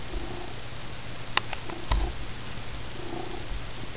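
A pet cat purrs steadily and close up, a soft continuous rumbling pulse broken by a couple of faint clicks or taps, with no voices over it.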